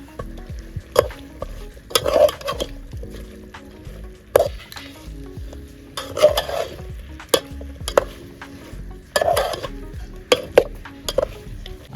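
A spoon scrapes and clinks against a pan while masala-coated chicken sizzles, the stirring strokes coming in irregular bursts over a soft, steady fry, close and alone with no talking.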